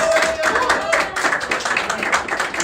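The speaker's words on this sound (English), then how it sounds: "Please applaud." An audience at a Latin certamen quiz competition applauds, scattered moderate clapping with uneven taps, lasting briefly and fairly close.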